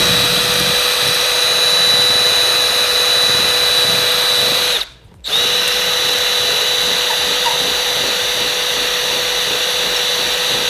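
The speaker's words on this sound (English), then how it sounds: "I drilled right next to the fucking radiator like an idiot" A power drill boring into a gaming PC case near its radiator gives a loud, steady, close whine that cuts out for about half a second midway, then resumes just as harshly.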